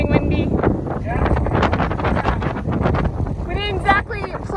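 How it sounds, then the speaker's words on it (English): Gusty wind buffets the microphone with a loud, close rumble near sand dunes while people talk over it. "Getting windy."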